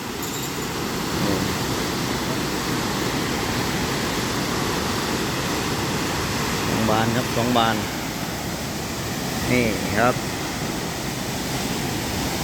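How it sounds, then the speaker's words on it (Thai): A steady, loud roar of water rushing through two opened floodgates into the Mun River at Ban Bung Bao, Buriram, Thailand, with someone speaking briefly over it. "น้ำไหลแรงมากครับ"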